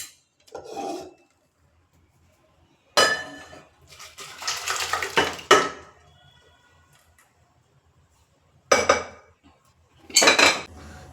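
Cooked lentils and cucumber for Mangalore sambar are moved into another pot, giving short bursts of metal pot and utensil clatter and scraping separated by quiet gaps.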